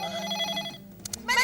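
A telephone bell rings in a short burst during a sitcom scene, followed by brief clicks and a sung, tuneful sound near the end.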